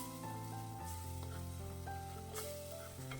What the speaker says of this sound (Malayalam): ഇനി നല്ലവണ്ണം ഒന്ന് വഴറ്റിയെടുക്കണം. ആ തക്കാളിയുടെ വെള്ളമൊക്കെ വറ്റിയിട്ട് നല്ലവണ്ണം വഴന്ന് കിട്ടും.